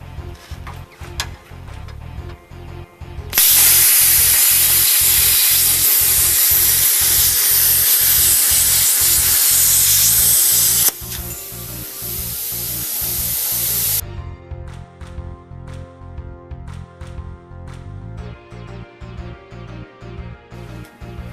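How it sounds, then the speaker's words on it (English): Cutting a notch off the top of a steel blade forged from a giant wrench, a loud harsh hiss held for about eleven seconds over a steady rhythmic machine hum, then fading back to the hum alone. "I'm just going to cut out this first little nick off the top of the blade."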